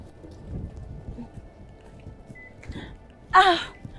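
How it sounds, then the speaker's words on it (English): Rain patters softly and steadily in the background, then a brief sharp crack of thunder bursts near the end, loud and close. "Thunder."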